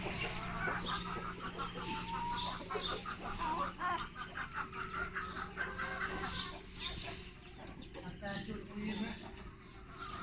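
Chickens cluck and call steadily around a farmyard as feed is brought, with a person speaking over the birds throughout.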